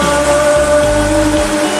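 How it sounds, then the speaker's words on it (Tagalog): Heavy rain pouring down in a steady, dense hiss, loud and close, over a soft tonal hum with low rumbles, continuous without breaks. "Lakas ng ulan dito."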